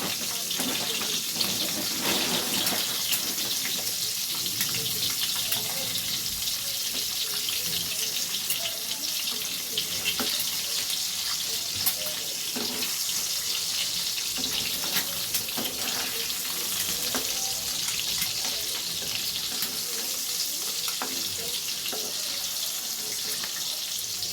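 Food fries steadily in a pan with a continuous hiss and faint crackle, moderately loud and without voices, with small stirring clatters here and there.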